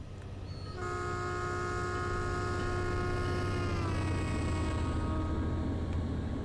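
A Metrolink F59PHR passenger locomotive on the San Bernardino Line in Train Sim World 5 rumbles past with a sustained multi-tone horn blast that drops slightly in pitch as it goes by, loud and close over steady engine drone.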